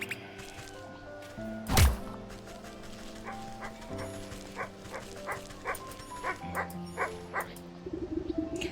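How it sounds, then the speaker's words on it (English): A small dog in the video game Wytchwood yaps in a quick series of short, sharp barks after one louder yelp, fairly close and frantic, over a faint game background. "This anxious little dog attempts to frantically get town guards' attention."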